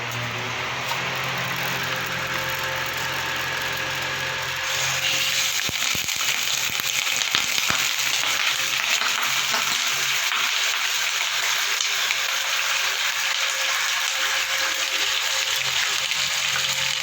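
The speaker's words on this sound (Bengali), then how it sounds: "তেলটা আমি গরম করতে বসিয়ে দিয়েছি। প্রথমে আমি চিকেনটা দিয়ে দেবো।" Chicken pieces dropped into hot oil for a home-style chicken curry with potatoes, giving a loud, steady sizzle and crackle that grows brighter after a few seconds and continues unbroken, with no talking.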